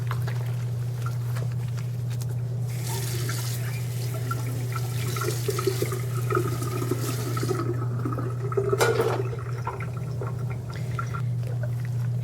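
Dishes are hand-washed and rinsed under running water, giving a steady flow with splashing and clinking surges over a constant low mechanical hum, and no one speaks.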